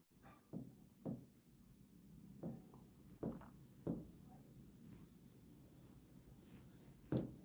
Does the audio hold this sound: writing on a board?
yes